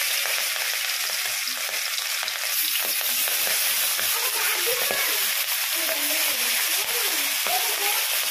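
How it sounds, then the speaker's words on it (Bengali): Fish frying in oil in a wok on a gas stove, giving a steady loud sizzle and crackle throughout, with some stirring and scraping sounds in the second half. "তেল দিয়ে দিয়েছি কড়াইয়ে, মাছগুলো ভাজবো"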